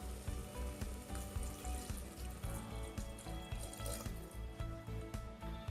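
Chopped tomatoes fry in hot oil in a pot for village-style tomato kulambu, giving a close, continuous, crackling sizzle with steady popping and no voices.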